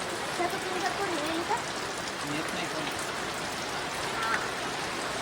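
Steady heavy rain on farm fields, a dense continuous hiss and patter throughout, with faint voices buried underneath.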